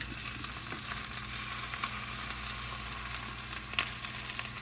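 Freshly grated hash browns sizzle in a hot pan, a steady dense crackle of frying oil heard up close and undisturbed, with a faint clink or two.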